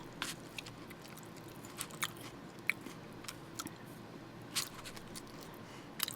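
Someone eats boiled pork bossam, with soft, close chewing and occasional wet bites scattered across a quiet background, faint and intermittent, with no talk.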